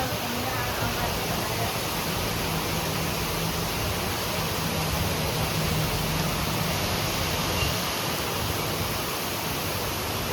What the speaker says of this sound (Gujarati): સુરતમાં તો વરસાદ જે આવે છે યાર